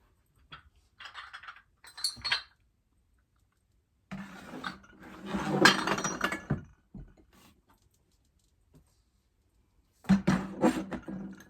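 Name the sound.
glass dishes clinking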